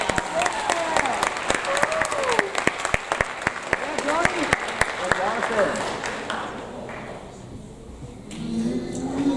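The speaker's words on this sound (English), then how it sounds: "one more round of applause, both for Belco and for our student recipients" Audience at a 7th grade awards ceremony applauds student recipients, crisp clapping with voices mixed in that fades out after about six seconds, leaving quieter room noise and murmuring.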